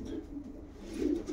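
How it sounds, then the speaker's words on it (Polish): A racing pigeon at a Silesian homing-pigeon loft coos in a low, throaty burst, close and moderately loud, swelling toward the end over faint background noise. "Powiem wam, że piękny gołąb."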